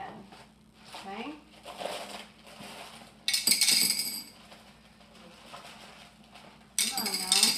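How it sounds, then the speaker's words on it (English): Glass beads pour into a vase for a floral rose arrangement, producing bursts of bright, dense clinking and rattling that come and go, with a person talking quietly between and over the pours. "as I pour these glass beads in"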